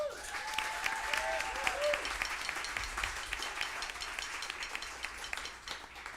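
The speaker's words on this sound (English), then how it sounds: "I want you to applaud him one more time." Applause from a jazz lounge audience for a trumpet player, a steady wash of clapping at moderate level lasting several seconds, with a brief tonal phrase near the start.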